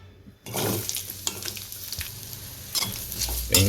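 Two large chunky-cut onions sizzle loudly in hot oil in a pan from the first half-second onward, with scraping stirs and brief clatters, the frying swelling again near the end while someone prepares kodi kari varuval.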